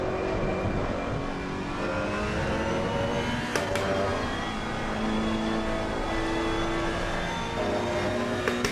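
Race car engine in a sim racing game, a loud, continuous buzzing drone that swells and eases slightly as revs change, with a couple of sharp clicks partway through.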